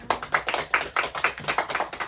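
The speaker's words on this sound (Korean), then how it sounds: "세 번째 스무살 우리 특강을 위해서 다 박수 한번 쳐주십시오" A small audience at a book author's lecture claps in a quick, fairly even rhythm, a brief burst of applause at moderate volume with no talking.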